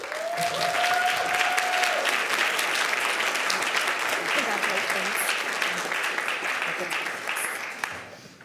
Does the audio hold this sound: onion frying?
no